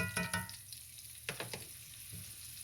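Minced garlic sizzles in a hot pan for chicken and rice, a soft frying hiss punctuated by a few sharp crackles and stirring scrapes, close but fairly quiet, with no voices.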